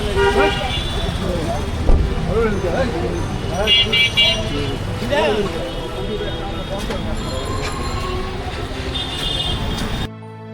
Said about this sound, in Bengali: ব্যস্ত যানজট